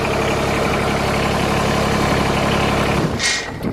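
Diesel engine idling nearby at a greenhouse, a loud steady low rumble that cuts off near the end as it is switched off, followed by a brief faint clatter.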